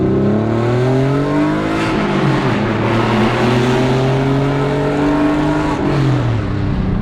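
A Porsche 964 revs hard as it drives through a tunnel, its loud engine note climbing and falling in pitch across two pulls with strong echo, passing close by with no talk.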